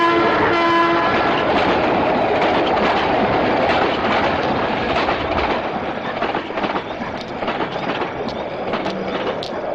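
A train rumbles past close by near a railway bridge, loud and continuous, with a horn sounding at the start and wheels clattering over the rails as it passes.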